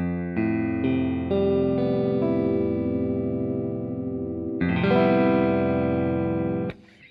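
An electric guitar with effects is strummed in a bright open FACGCE tuning, sustained ringing chords played alone, with a chord change partway through and a sudden stop near the end.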